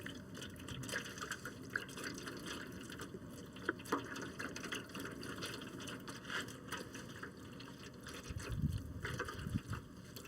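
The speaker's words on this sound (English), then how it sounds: "the first thing we're going to do is add some beef broth or beef stock, whichever you prefer" Beef broth pouring from a container into a pot for smoked corned beef brisket, a continuous faint gurgling liquid stream with small drips and splashes, steady and close, with no talking.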